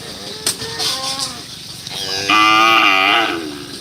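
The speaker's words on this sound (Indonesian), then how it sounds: "Ini sapi baru lagi." Loud nearby cattle mooing at a bull racing practice ground, a long bellowing moo building into a sustained, strained call with a shorter moo earlier and background commotion.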